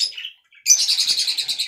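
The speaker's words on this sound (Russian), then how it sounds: "перед нами волнистые попугаи" Budgerigars chirp in a quick, busy run of bright tweets after a brief faint call and a short pause, close and fairly loud with no talking.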